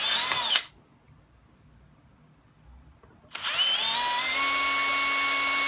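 A power drill bores holes in a metal sign for a chain link fence, a loud steady whine that stops for a few seconds of quiet, then starts again and runs on.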